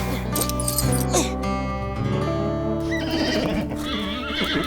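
A young foal neighing and whinnying close by on a hot farm day, with repeated loud, wavering calls and a few soft hoof clops.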